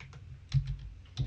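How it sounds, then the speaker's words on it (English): Light keystrokes on a computer keyboard as a command is entered, a few soft separate clicks spaced irregularly, close and quiet with no talking. "you will go ahead and type Python"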